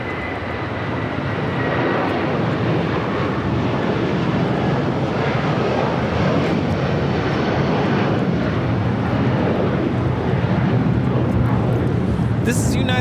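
United Airlines Boeing 757-300 taking off from LAX for Honolulu, a loud, continuous jet engine roar with a faint high whine, steady from start to finish without talk.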